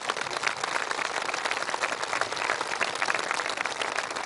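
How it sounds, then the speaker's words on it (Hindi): An audience at a Brahma Kumaris ground-breaking and dedication ceremony applauds loudly, with dense, steady clapping that holds through the whole stretch and carries no voices. "सभी जोर से ताली बजाएं।"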